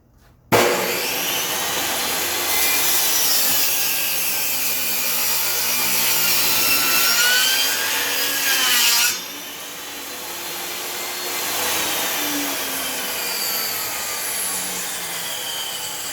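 A saw blade cuts through firewood for a birdhouse with a loud, continuous buzzing rasp that starts abruptly, dips briefly partway through, then carries on under a fan's steady hum.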